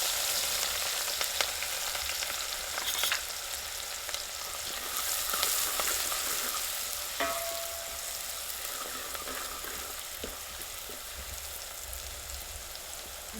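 Chopped green chili and garlic sizzle in hot oil for an eggplant olo, a dense, continuous crackling fry close by with scattered pops and a few soft utensil clicks.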